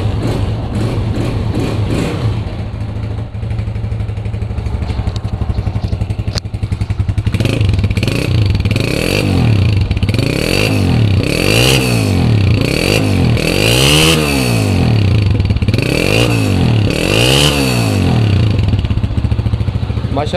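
A 2002 Honda CG-125 motorcycle engine starts and settles into a loud, close single-cylinder idle, then is blipped repeatedly in rhythmic revs that rise and fall again and again.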